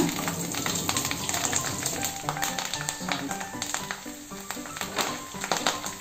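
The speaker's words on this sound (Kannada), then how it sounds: "ಕಾದಿದೆ ಎಣ್ಣೆ ಇವಾಗ ಜೀರಿಗೆ ಸಾಸಿವೆ ಮತ್ತು ಕರಿಬೇವಿನ ಸೊಪ್ಪು ಹಾಕೋಣ ಈಗ ಮೆಣಸಿನ್ಕಾಯಿ ಹಾಕೋಣ" Cumin, mustard seeds, curry leaves and green chilies sizzle and crackle in hot oil for a vada dish, a dense steady frying hiss with scattered pops and light taps, with no voices.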